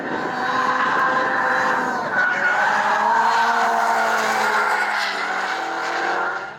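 A drift car's tires squeal in a long, continuous skid over a roaring engine at a motorsports track, loud and close, with the pitch sliding and wavering for several seconds.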